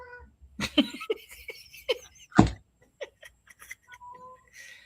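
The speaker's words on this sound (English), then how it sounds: "Why are you meowing at the box?" A cat meows several times in short, chatty bursts close by, with people's voices and a laugh mixed in.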